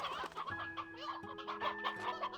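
Chickens in the video game Slime Rancher 2 cluck in a quick series of short, clear calls, close and alone, with a small flock chattering over one another.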